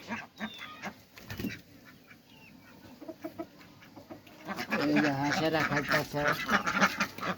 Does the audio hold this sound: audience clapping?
no